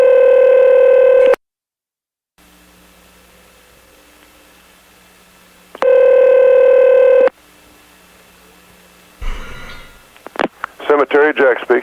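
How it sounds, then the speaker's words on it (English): Touch-tone dialing from a telephone on a radio call-in show sounds as two bursts of steady tones separated by quiet line hiss, then a ring and a voice begins. "we're going to have to get him back on the phone again"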